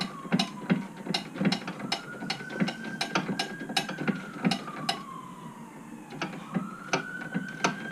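A socket ratchet clicks steadily on a bolt underneath a Dennis Dart bus, giving close, rhythmic metallic ticks in repeated runs with a faint siren-like tone wavering in the background.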